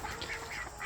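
Domestic ducks quacking in a backyard poultry pen kept alongside turkeys, a short run of several nasal calls at moderate distance with steady outdoor background.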